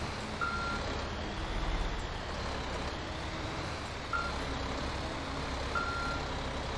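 Truck reversing alarm in the GTA 5 video game, a few evenly spaced beeps sounding over a steady rumbling engine and road noise, with no talk.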